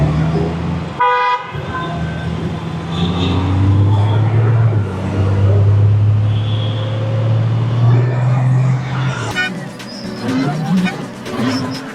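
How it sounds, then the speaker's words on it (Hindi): Heavy road traffic at the Dhaula Kuan junction in Delhi, a steady loud roar of engines with repeated car horns tooting near and far, including a long sustained blast, while someone speaks over it. "तो यहाँ पे हर टाइम ट्रैफिक ही ट्रैफिक रहता है।"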